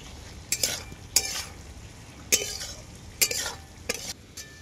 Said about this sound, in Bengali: সব মশলাগুলো দিয়ে এরপর ভালো করে কষিয়ে নেব আমি